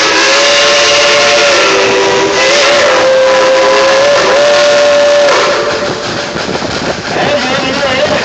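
Steam whistle of the Dollywood Express, former White Pass and Yukon Route engine number 192, blowing long loud sustained blasts with a slight pitch shift, over rumbling train noise close by.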